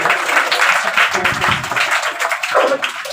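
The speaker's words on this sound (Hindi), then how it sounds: "एक बड़ा इकबाल साहब के लिए जरूर तालियां होनी चाहिए" A hall audience at a community committee event honoring 10th and 12th grade girl students in Bhiwandi breaks into loud, steady applause, many hands clapping close by with faint voices mixed underneath.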